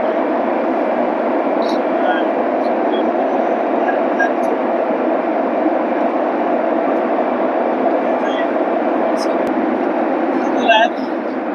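Aircraft engine noise fills the cabin on a flight from Kathmandu to Bengaluru, a loud, even drone that holds steady throughout with only faint small clicks over it.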